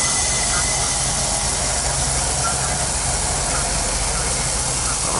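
A pancake cooks on a butane camp stove inside a camper van, giving a steady, unbroken hissing roar that stays loud and even throughout with no voices.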